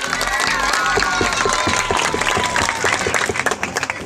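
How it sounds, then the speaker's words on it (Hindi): Sustained crowd applause at a village panchayat ceremony honoring class 10 toppers: many hands clapping loudly and steadily for the whole stretch, thinning slightly near the end, with a faint voice underneath. "ताली बजते रहना चाहिए हमारे गुरुजी के लिए।"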